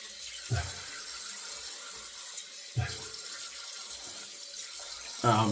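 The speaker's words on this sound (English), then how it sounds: "Let's give this a rinse off." Tap water runs steadily into a sink while someone rinses shaving lather off their face, with three splashy bursts of hands scooping water close by over the constant flow.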